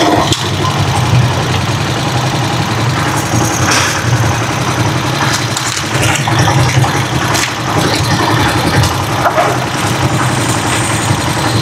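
A tuk-tuk's engine idles steadily in stopped traffic, a continuous loud, slightly rough mid-to-low rumble with vibration and no pauses, close to the listener.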